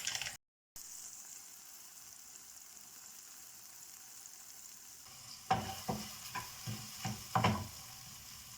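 Seasoned food sizzles quietly in a pan, then a spoon stirs it through several times, sending brief scraping, clattering bursts over the soft frying hiss in the final seconds.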